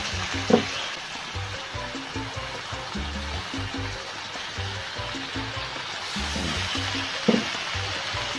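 Holy basil and grilled pork neck are stir-fried in a pan with a constant hissing sizzle and a few sharp spatula clanks, close and moderately loud, with low scraping thumps underneath.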